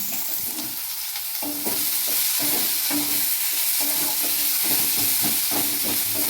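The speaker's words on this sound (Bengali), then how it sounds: "পেঁয়াজগুলো একটু আমি দেখেছেন মাছ ভাজা তেলেই দিচ্ছি" Chopped onions, with crushed spices, sizzling in leftover fish-frying oil for a Bengali cashew rohu curry, a steady hiss with repeated scraping stirs of a spatula in the pan, close and fairly loud.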